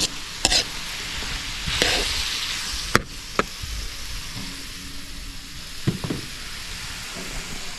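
Spices and tomatoes frying in a pan for bagoong shrimp paste, a steady sizzle broken by sharp clinks and scrapes of stirring, close and fairly loud.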